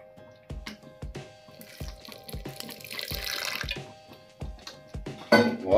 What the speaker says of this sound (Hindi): बिल्कुल थोड़ा सा पानी डालते हैं इसमें